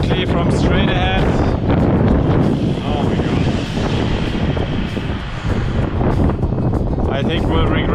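Strong headwind buffeting the microphone while bike touring on the road, a steady loud low rumble with gusty swells throughout, with talk in the middle.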